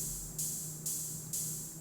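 Three evenly spaced ride cymbal strokes, each ringing on with a bright shimmering wash, played softly on their own.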